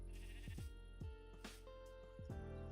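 A sheep in Minecraft Java Edition bleats several times in quick succession, clear and close against a steady in-game background hum, with no talking.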